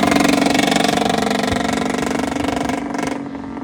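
A racing scooter engine buzzes close by during a Pembrey circuit race, with a raspy, pulsing exhaust note that drifts slightly lower in pitch before cutting off near the end.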